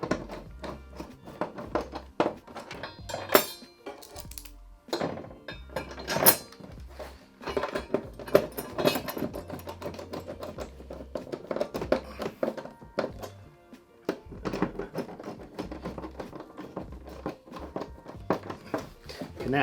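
Bolts are tightened into a TV wall mount for a Samsung Q80B QLED, heard as scattered metallic taps, clicks and clunks in uneven bursts with quiet gaps, close and fairly crisp.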